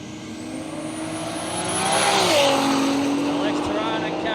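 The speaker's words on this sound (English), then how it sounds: "'77 model LX Tirana in the Rocket Industries lane up against the 2JZ powered EK Holden ute." A '77 LX Torana and a 2JZ-powered EK Holden ute race down a drag strip, engines swelling to a loud roar at mid-point with a rising whine, while a commentator talks over the noise.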